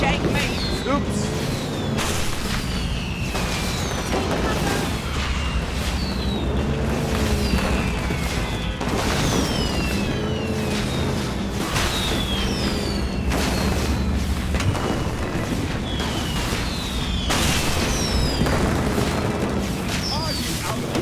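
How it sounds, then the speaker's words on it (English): Explosions burst across the sky in the video game Deliver At All Costs, repeated booms layered over continuous engine rumble and game noise, with high whistling streaks between the blasts. "Sky's exploding!"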